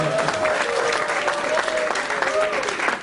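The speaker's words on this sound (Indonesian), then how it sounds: "Buat yang sudah datang kemarin masih datang hari ini kita berikan tepuk tangan juga yang meriah." A church congregation applauds loudly and steadily, a dense rush of clapping from a large crowd that fades slightly at the end, with a voice speaking under it.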